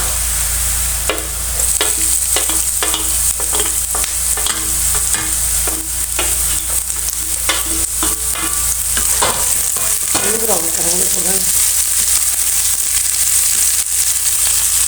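Onions fry with ginger and green chili for aloo palak, a loud, close, steady sizzle broken by repeated scraping stirs of a utensil in the pan.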